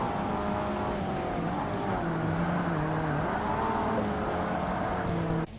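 Race car in Forza Motorsport on Xbox with its front wheels locking under braking, a steady loud engine drone with layered harmonic whine and tire scrub running continuously throughout, cutting off at the very end.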